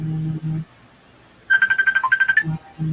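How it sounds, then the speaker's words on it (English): A phone ringtone trills in a quick run of short, pulsing electronic beeps, sounding once between bits of nearby talk. "Somebody's phone's ringing."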